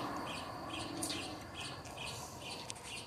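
Odd, changeable bird calls at midnight outdoors, faint and distant, a series of high chirps and whistles over a hissy night background, with no voices.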